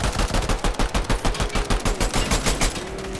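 Rapid automatic gunfire in Fortnite, a close, loud, steady stream of shots at roughly ten rounds a second, held unbroken for about three seconds.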